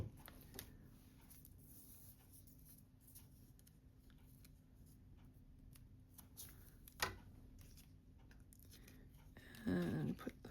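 Scissors snip to trim yarn ends on a craft project, a few faint scattered clicks and crisp cuts against quiet room tone, plus a brief rustle near the end.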